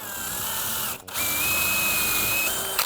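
A power drill whirs steadily at high pitch, drilling at a 45-degree angle, pausing briefly about a second in, then running on again close by.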